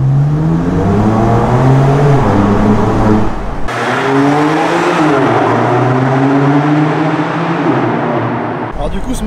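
A BMW M2 Competition's inline six-cylinder engine revs and drones loudly with a sporty Akrapovic exhaust note, rising and falling in pitch, with a brief cut partway through.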